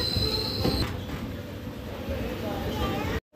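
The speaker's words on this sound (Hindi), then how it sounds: "2 मिनट के स्टॉप के बाद चलती है हमारी ट्रेन मलोट रेलवे स्टेशन से।" The passenger train 04756 from Shri Ganganagar to Bathinda pulls out of Malout railway station. There is a loud, steady rolling rumble with a thin wheel squeal early on, heard from inside the train while voices talk over it.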